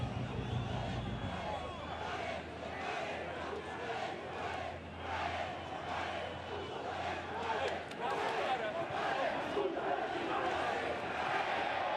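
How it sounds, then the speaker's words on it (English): Guatemalan football crowd taunting at a Concacaf qualifier against Suriname, a broad roaring chant-like din from a stadium with a commentator talking over it. "And now the taunts fly from the Guatemalan crowd"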